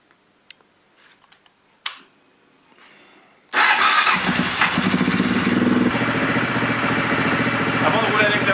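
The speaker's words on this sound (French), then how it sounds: "on va démarrer la moto" An AJP PR7 motorcycle engine cranks and fires after a few faint clicks and taps, then settles into a loud, steady idle close by that runs to the end.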